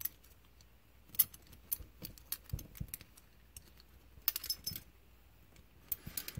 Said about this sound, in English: And let's get one of these keys off here.